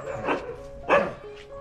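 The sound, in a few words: Rajapalayam puppy barking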